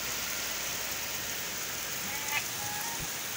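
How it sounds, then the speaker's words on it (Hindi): Heavy rain falls in a Pakistani village as a steady, dense hiss, with a faint thud or two and no talk. "ये आप देख सकते हैं कि आ गई बारिश, कितनी तेज़ बारिश आई है इधर"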